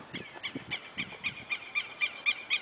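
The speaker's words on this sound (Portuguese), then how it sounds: "Passarinhos cantando," Bird calls repeat in a steady series of short, bright chirps, about ten in quick succession, with lower honking notes mixed in beneath, at Pampulha Lagoon in Belo Horizonte, Brazil.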